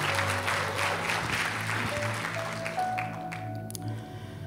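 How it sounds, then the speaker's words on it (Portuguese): A church audience applauds together, a dense wash of clapping with a sustained low hum beneath, fading slightly toward the end. "Você pode aplaudir o Senhor por isso?"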